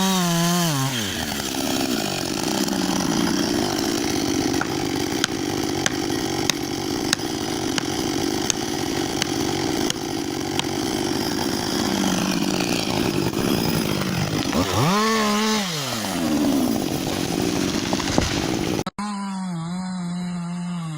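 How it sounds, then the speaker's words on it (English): A roaring chainsaw cuts into a large tree, its engine droning loud and close for nearly twenty seconds with rising and falling revs, then cutting off abruptly. "the roaring chainsaw"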